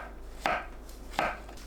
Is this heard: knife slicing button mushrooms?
yes